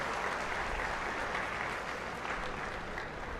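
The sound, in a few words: applause at BJP state working committee meeting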